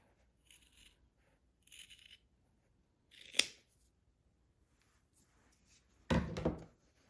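Scissors trim bulky fabric from a sewn oven mitt, giving a few short, separate snips and crunches spaced apart, with one heavier cut near the end, close and fairly quiet with no talk.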